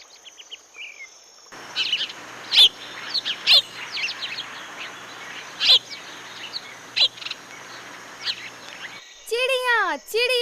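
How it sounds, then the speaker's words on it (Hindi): Several sharp, high bird chirps ring out one at a time at an irregular pace over a steady insect-like background hum, and a quick, louder burst of twittering calls closes the sequence. "चिड़िया चिड़िया"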